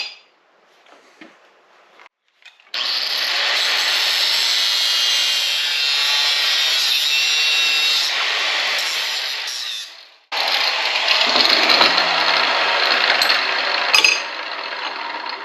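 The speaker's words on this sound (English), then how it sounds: "we're going to cut the heads off of these bolts" A power tool cuts the heads off steel bolts while a log splitter table is being built. A loud, steady grinding whine runs for about seven seconds, stops briefly, then starts again with harsher, rougher cutting.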